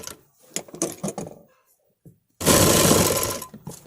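A sewing machine stitches piping using a double-sided presser foot. Scattered clicks and handling noises give way to a loud, steady, close mechanical whir of continuous stitching.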